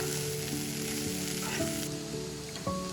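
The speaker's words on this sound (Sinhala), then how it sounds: "මේ විදිහට ටිකක් කලවම් කරලා" A seeni sambol onion mixture fries in a pan with salt while being stirred, producing a steady close sizzle with light scraping strokes and no talking.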